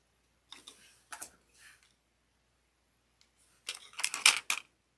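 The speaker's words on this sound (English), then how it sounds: "punch a rivet and punch a hole for a rivet." A hand punch strikes thin faux leather for a rivet hole on a handbag, giving a few sharp clicks and taps in separate bursts with quiet gaps between them.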